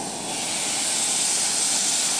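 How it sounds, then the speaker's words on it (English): A ribeye steak sizzles in a pan on a two-burner Coleman camp stove during a solo truck-camping night in Hoosier National Forest, a loud, steady hiss that holds throughout with no talking. "I'll bring you in for when the sizzle happens."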